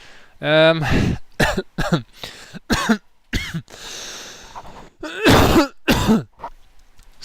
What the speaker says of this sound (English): I'm not sure what that coughing fit was about.